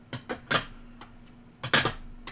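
PSA graded card slabs being taken out of an Epson V550 scanner and flipped over give a handful of sharp, close plastic clacks in two quick clusters over a quiet background.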